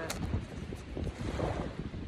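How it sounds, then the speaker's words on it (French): Gusty outdoor wind near water buffets the microphone with steady low rumbling and flutter, a constant loud roar with choppy bursts throughout. "Le vent se lève."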